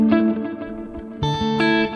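Electric guitar through a Line6 HX Stomp XL on a preset with short and long reverbs, ringing sustained chords with shimmering, echoing repeats, with a fresh strum near the middle.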